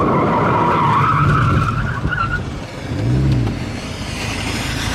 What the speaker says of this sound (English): And that's where I spin out.